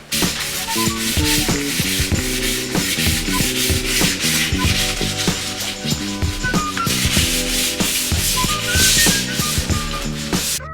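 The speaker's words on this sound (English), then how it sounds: "I wish I had lower grit, like 200 grit sandpaper, but we're starting out with 400 because that's all we have." Bondo body filler on a custom BMW E28 widebody is sanded by hand with 400 grit sandpaper, producing close, continuous rhythmic rasping strokes with squeaky tones, no talking.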